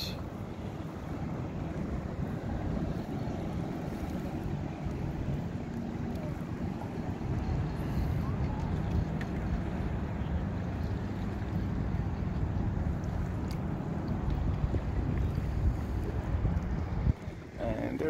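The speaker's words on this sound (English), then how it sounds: "So here we are kayaking in Virginia Beach" Steady wind and open-sea wash surround a kayak paddling off Virginia Beach, a constant broadband rush of water and air with occasional faint splashes and no voices.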